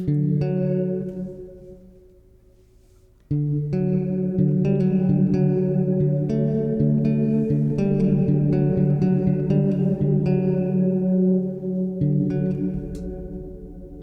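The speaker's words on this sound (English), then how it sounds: "Take this off so you can hear the modulation on the reverb by itself." A bass guitar played through a Keeley modulated reverb pedal rings out in sustained notes with a shimmering, wavering tail, one long note decaying before a series of plucked notes swells and lingers.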